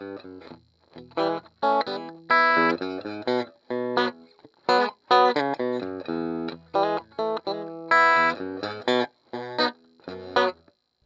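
Dry electric guitar through a Lemtone amp with no reverb, playing choppy chords and short phrases with clear gaps between them, slightly distorted and without any echo or tail.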